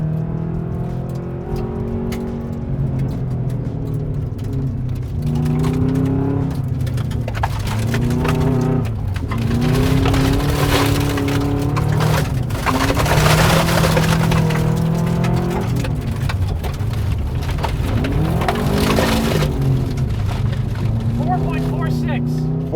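A turbocharged car on a timed trail-braking run, its engine loud and close, rising and falling steadily through gear changes for the whole stretch.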